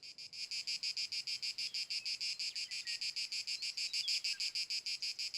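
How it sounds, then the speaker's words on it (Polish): A dense, high-pitched cicada buzz pulses in a fast, steady rhythm, loud and continuous like a chorus, with no voices, in Iberian lynx habitat after a hot summer. "teraz rozbrzmiewa tylko monotonne cykanie cykat"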